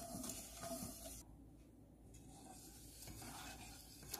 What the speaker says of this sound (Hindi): जब तक हमारी चीनी घुल नहीं जाती है तब तक हम लगातार चाशनी को चलाते रहेंगे